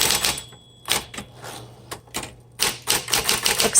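Keys clack on a 1960s Smith Corona Coronet electric typewriter in quick, close bursts of several strokes separated by short pauses, loud and crisp with no talking.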